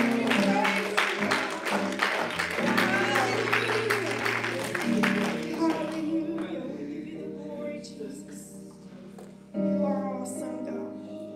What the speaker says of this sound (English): give God a hand clap of praise right now